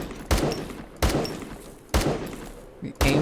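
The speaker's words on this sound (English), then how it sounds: "He's shooting back." An enemy spaceship returns fire in the space combat game Starsector: four heavy, booming weapon impacts land in an uneven rhythm, each followed by a rumbling decay, loud and close.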